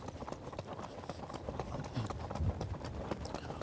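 Horse hooves clip-clop in a steady, even rhythm, fairly quiet and close by.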